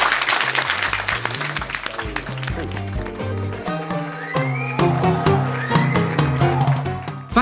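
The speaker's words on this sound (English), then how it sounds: "Round of applause for you." Audience applause at a live podcast recording at the London Academy of Excellence, heard as steady clapping that runs alongside music and talk for the whole stretch.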